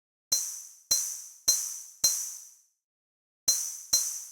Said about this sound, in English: Now you can hear that pitched metal sound.